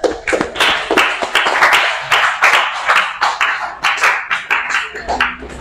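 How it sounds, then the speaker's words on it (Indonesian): A small audience at a foundation-plan drawing class claps in a quick, uneven patter of close handclaps that lasts several seconds, with some talking mixed in. "kita beri aplaus ya untuk Mas Farsa dan Mas Rizky Madila ya"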